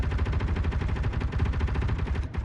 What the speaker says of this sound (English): Well, that's a lot of good gunfire.